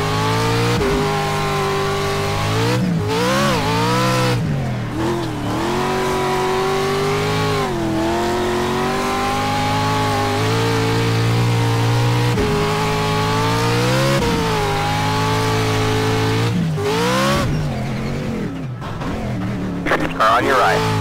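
Pro 4 off-road race trucks in Lucas Oil racing roar past in a continuous loud engine drone, pitch climbing and falling as they rev and shift, with voices talking over the racket.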